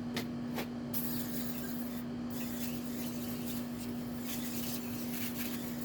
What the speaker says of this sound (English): I'm gonna go ahead and spray this